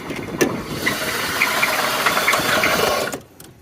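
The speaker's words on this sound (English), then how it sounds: "My engine is definitely making noise." A car engine runs roughly with a knocking rattle, steady and fairly loud for about three seconds before cutting out abruptly.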